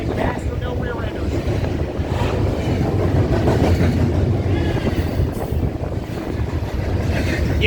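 Freight stack train led by GE Evolution and Dash 9 locomotives passing close by, a loud continuous roar and rumble of wheels and cars with heavy wind buffeting the microphone.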